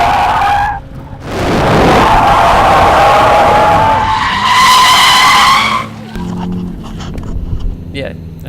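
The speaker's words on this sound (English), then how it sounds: "Now Rome's gonna drive the car, we'll see how he does." A car skids and slides on dirt during a test drive, loud tire squeal and engine noise rising in long sweeps, then breaking off into rougher rumbling near the end.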